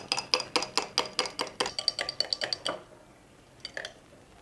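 A spoon clinks steadily against a glass while stirring nannari syrup sherbet, about a dozen quick, bright taps in a fast rhythm, close and fairly quiet, followed by a pause and two final clinks.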